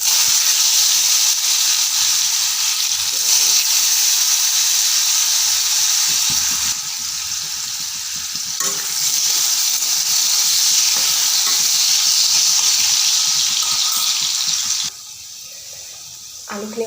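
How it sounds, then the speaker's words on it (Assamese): Potato pieces fry in hot mustard oil in a wok, producing a loud, continuous hiss and sizzle with stirring that drops in level near the end. "এতিয়া আলুখিনি মই ভালকৈ ভাজি লওঁ।"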